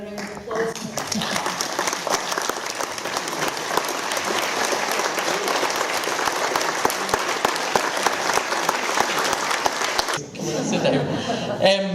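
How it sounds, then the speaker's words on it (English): Sustained applause from an audience at a live in-conversation event in Troon, Scotland, filling about ten seconds with steady dense clapping, then fading into a brief stretch of talk. "join me in giving her a round of applause"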